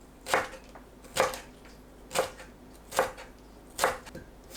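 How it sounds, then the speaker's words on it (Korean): Knife julienning bell pepper on a cutting board, five evenly spaced crisp chopping strokes roughly one per second, close and clear with quiet pauses between and no voices. "파프리카는 씨를 손질하고 채 썰어주세요"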